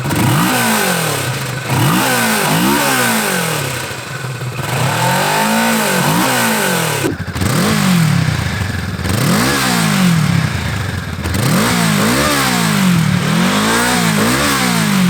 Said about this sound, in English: the gap between the two cylinders firing gives it a certain sound and feel